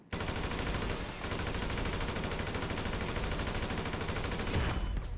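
Rapid automatic gunfire in the video game GTA V rattles almost without pause, a dense loud barrage broken by one brief gap, with a sharper burst near the end.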